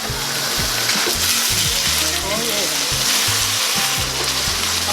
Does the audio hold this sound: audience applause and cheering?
no